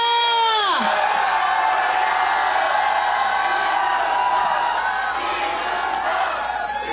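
A large crowd at an outdoor election rally on Teheran-ro cheers and shouts loudly and steadily after a rising whoop, with the roar holding for several seconds.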